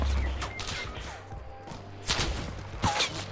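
Gunfire rings out in a battle royale video game, a few sharp bursts spaced across a quiet stretch, sounding somewhat distant with no talking over them.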